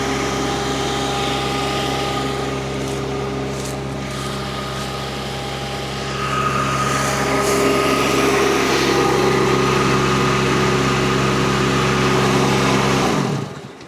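A mini skid steer carrying a disc mulcher runs in the woods with a loud, steady engine drone and a high whine. The engine swells louder partway through, then cuts off abruptly at the end.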